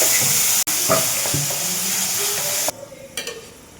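Vegetables and tomato for avial cook in a pan while being stirred, a steady sizzle and scraping that cuts off abruptly near the end, leaving faint clinks.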